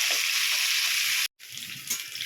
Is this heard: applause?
no